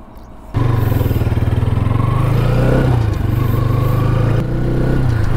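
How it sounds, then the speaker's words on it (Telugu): A 2020 Bajaj Pulsar NS200 BS6 200cc motorcycle engine starts up and runs at a close, loud, steady idle with a throbbing pulse and a slight dip in revs midway. "ఇది 2020 మోడల్ బిఎస్6 200cc బైక్."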